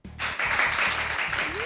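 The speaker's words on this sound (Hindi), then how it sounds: "वो तालियां बजाएं।" A studio audience claps for a singer at a televised singing contest. The applause is loud and steady through the short burst, with voices in the background.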